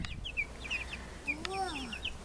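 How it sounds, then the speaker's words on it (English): Chickens clucking and chirping in short, high bursts nearby, fairly faint, with a voice calling over them. "Where's the chickens?"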